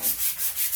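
Sandpaper is rubbed by hand across a wood countertop in four quick rhythmic strokes, a close, airy scratching hiss with no voices.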